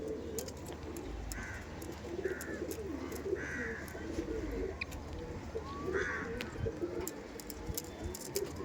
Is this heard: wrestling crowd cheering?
no